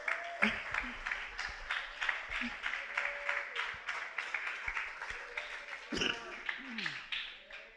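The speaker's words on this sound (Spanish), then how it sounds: "Denle el aplauso al Señor" A church congregation claps steadily in rhythmic unison, a dense patter of hands filling the space, while voices call out over it.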